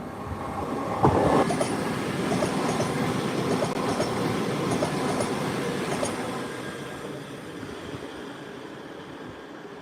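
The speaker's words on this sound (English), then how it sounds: "here comes our freight train, which looks like it's just two light locomotives on their own" A freight movement of two light locomotives running on their own passes by, a loud rolling rumble with rhythmic wheel clatter on the rails that builds early and then slowly fades away.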